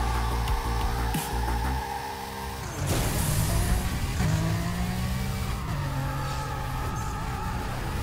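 Racing-game car engine in Burnout Paradise revs loudly and continuously with tire squeal and skidding, a sharp surge near the middle, sustained roaring throughout with no talk.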